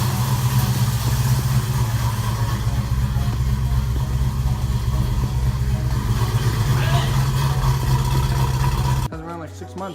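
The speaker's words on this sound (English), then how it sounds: "it's idling mint. It's idling a little high" A classic Ford Mustang engine idles slightly high, a steady low rumble that holds for about nine seconds before cutting away to a different, quieter sound.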